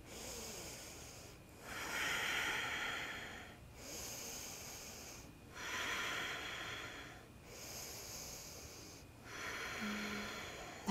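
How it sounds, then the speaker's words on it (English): Slow, deep breaths come close to the mic after a fiery vinyasa yoga sequence. There are three long, airy inhale-exhale cycles with a slightly wheezy hiss and short pauses between them. "Whew, I'm out of breath. 3 deep breaths."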